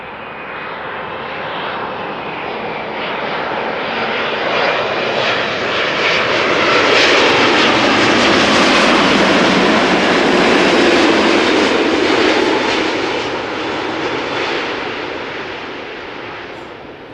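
A six-year-old airliner's jet engines at Schiphol Airport roar as it passes, swelling from a distant whine into a loud, broad rush at its nearest and then slowly fading, with no voices.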